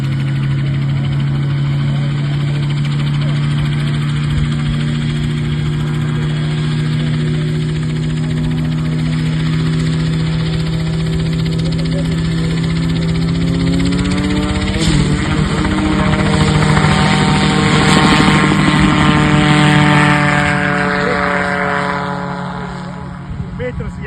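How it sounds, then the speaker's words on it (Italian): An ELA Aviacion autogyro's engine and rotor are heard during an instant take-off, with a loud, steady droning harmonic hum that rises in pitch and intensity midway as the craft lifts off, staying continuous and close throughout. "adesso vi faccio vedere in modalità parallela da un'altra soggettiva e dall'esterno il decollo,"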